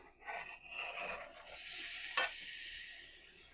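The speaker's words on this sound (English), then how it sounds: "I'm going to put this in a little frying pan and I'm going to saute it till it's soft" Bell pepper sizzles in a hot frying pan, a steady hissing sauté with a brief stirring scrape midway, close and fairly quiet, no voices.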